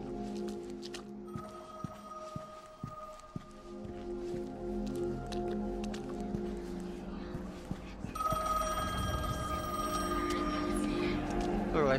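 A telephone in The Medium video game rings with a sustained electronic bell tone beneath soft footsteps and ambient drone, growing louder and clearer toward the end.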